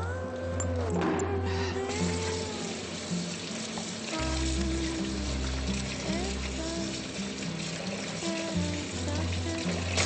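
Running and splashing water as peppers are washed in a home kitchen, a steady hiss and trickle with a low hum underneath and people talking over it.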